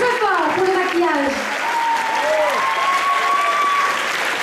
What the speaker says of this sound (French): On les applaudit bien fort à tous les Miss Target et les bénévoles.